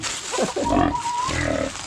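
A native pig grunts in a short, close, rough burst of low snorting sounds, alone without speech.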